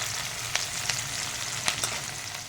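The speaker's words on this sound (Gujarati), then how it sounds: "હવે આપણી ડુંગળી પિંક કલરની થઈ ગઈ છે થોડીક સતળાઈ ગઈ છે" Sliced onions sauté in hot oil in a pan for Kathiyawadi-style tomato pulao, giving a continuous close-up sizzle broken by a few soft clicks of stirring.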